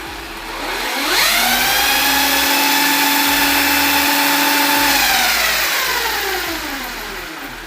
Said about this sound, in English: now I'm going to show you what the top speed of this car looks like